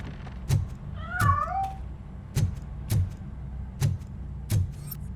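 A cat meows from inside a piano in the video game RoboCop: Rogue City, a brief wavering cry nearby amid a regular series of heavy metallic footstep thumps.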